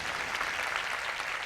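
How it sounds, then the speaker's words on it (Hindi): Dense, steady applause from a sermon congregation, a continuous wash of many hands clapping at even loudness, no talk. "आइए जोरदार तालियों के साथ।"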